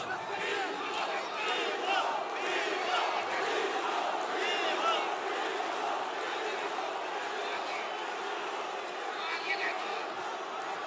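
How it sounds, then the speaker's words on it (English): A boxing arena crowd roars and cheers for Bivol during an undisputed light heavyweight championship fight, a dense, sustained wall of voices and shouts that holds steady throughout. "The crowd willing Bivol on"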